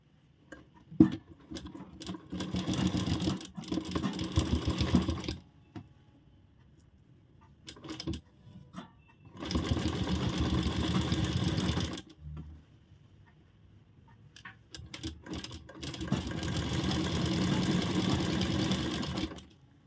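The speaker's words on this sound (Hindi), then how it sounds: "सीधे साइड हम इसको डायरेक्ट रखेंगे और सिलाई लगाएंगे।" A sewing machine stitches a zip pocket in three long bursts of rapid, even whirring with pauses between them. Soft handling clicks and rustles fill the gaps.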